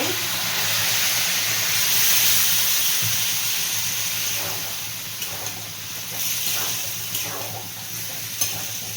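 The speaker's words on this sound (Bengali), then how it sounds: "এই সময় ছোলা সেদ্ধর জলটা আমি একটু একটু করে দিয়ে দেব" Hot chickpea cooking water poured little by little into simmering kabuli chana ghugni made with mutton fat, giving a steady close hiss and bubbling sizzle with occasional faint stirring clinks.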